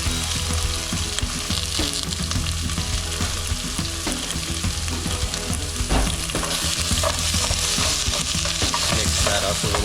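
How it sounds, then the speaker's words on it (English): Onion and herbs sizzle and crackle in a pot for pot roast, a loud, close, steady frying hiss with scraping stir strokes throughout and no talk. "gets nice and brown, just kind of heat up the herbs, get the onion to open up a little"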